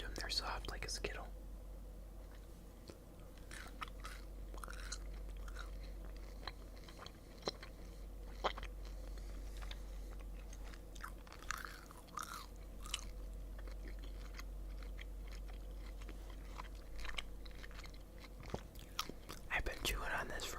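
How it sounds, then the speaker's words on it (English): Japanese candy gum chewed close to the mic, with soft wet smacks and small crunchy clicks over a steady low hum, with a few faint whispery breaths. "I've been chewing on this for a little bit."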